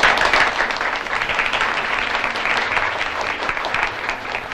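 An audience at a fashion show applauds the outfits with sustained, dense clapping that starts strongly and then holds at a moderate, even level.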